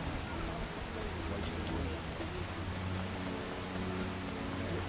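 Steady rain falls in the video game The Witcher, a dense continuous hiss of downpour with a low rumbling bed, heard close and unbroken throughout, with talk from characters nearby.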